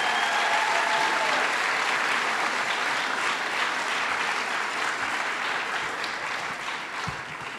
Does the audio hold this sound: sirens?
no